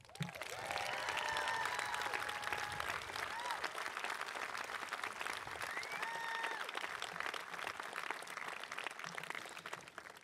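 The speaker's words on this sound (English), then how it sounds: "they also deserve a very loud round of applause" Loud, sustained applause from a high school graduation audience in Concord, Massachusetts, many hands clapping together with scattered cheers and whistles rising above, then gradually thinning toward the end.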